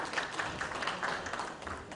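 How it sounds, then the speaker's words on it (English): An audience applauds to welcome a speaker on stage at an IT security conference in India. The clapping is steady, dense and fairly faint, lasting the whole two seconds with no clear pauses. "we welcome you on stage with a round of applause"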